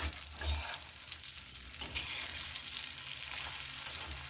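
Stuffed green chillies fry in a pan with a steady, close oil sizzle and crackle, stirred now and then, with no talk over it.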